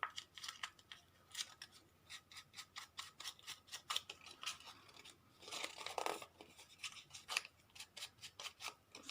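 Printed music paper is scrunched and distressed to age it for a junk journal, giving quiet, close crinkles and scratchy rustles in many short bursts over several seconds.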